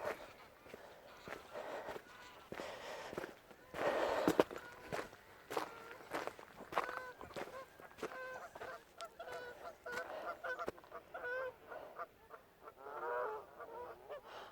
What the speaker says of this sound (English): I think there are some Canada geese down there.